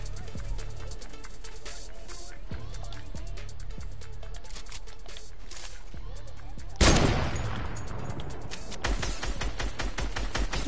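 Gunfire in a first-person shooter video game: rapid, sharp repeated shots in fast bursts, moderately loud, with a sudden heavier crack and rattle of shots later on.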